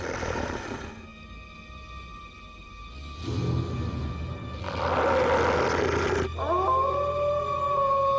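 Several long, wavering wolf howls rise and overlap, some low and some high, sustained over a faint background hum.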